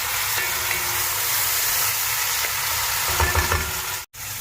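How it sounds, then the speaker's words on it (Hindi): Onions and tomatoes sizzle steadily in a pan while cooking for Bannu beef pulao, a loud, continuous frying hiss with occasional stirring scrapes, close and alone, ending with a brief cut. "अभी प्याज और टमाटर को आपने पकाना है, जब तक अच्छे टमाटर गल जाए"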